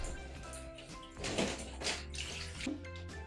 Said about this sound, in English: rinse the mixture with water.